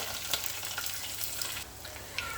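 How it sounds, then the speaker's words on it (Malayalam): Curry leaves, chopped ginger and garlic sizzle with fenugreek seeds in hot oil for a fish curry, a steady close crackling hiss with small pops, heard alone. "ഉലുവ പൊട്ടുവാണ് പൊട്ടിയെ ഇനി അതിലേക്ക് കുറച്ച് കരിയാപ്പില പിന്നെ അരിഞ്ഞു വെച്ച ഇഞ്ചിയും വെളുത്തുള്ളിയും കൂടെ അതിൻ്റെ കൂടെ ചേർക്കുന്നുണ്ട്"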